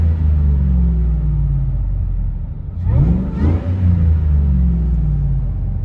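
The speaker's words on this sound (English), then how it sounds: "As you can hear, a lot more supercharger whine in the interior rather than the exterior." Inside the cab of a 2004 Ford F-150 SVT Lightning, the supercharged engine drones steadily and loudly, then surges in a brief rising sweep midway before settling back to its constant hum.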